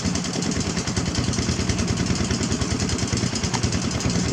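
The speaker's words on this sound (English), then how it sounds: "There are 3 pumps running right now." Engine-driven water pumps run in a rice field in Roxas, Isabela, during planting season. They make a loud, close, steady pulsing chug with a rattling clatter and no talking.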